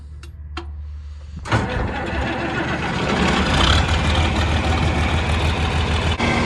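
A John Deere 4020 tractor engine fires up after a couple of faint clicks and settles into a loud, steady, rumbling run out in a field at planting time, with no voices.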